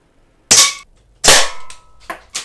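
A Classic Army CA870 airsoft shotgun fires three sharp, loud cracks outdoors, with the first two spaced apart and the third following quickly.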